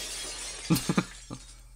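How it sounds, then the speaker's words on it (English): Window glass shatters in the Higurashi When They Cry video game, a quick cluster of three sharp breaking crashes followed by a fainter fourth, over a steady background hum with no talk. "swinging full force at each pane of glass, one after another, paying no heed to the flying shards"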